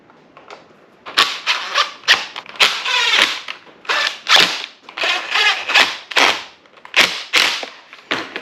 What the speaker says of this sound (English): And then we'll get our bolts put in it.